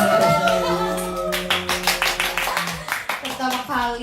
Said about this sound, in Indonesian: tepuk tangan buat hostnya